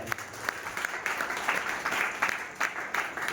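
Applause from an audience at an RCM business meeting honouring upline leaders: a steady wash of many hands clapping at moderate distance, with sharper individual claps standing out throughout.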